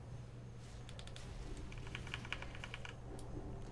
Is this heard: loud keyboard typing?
yes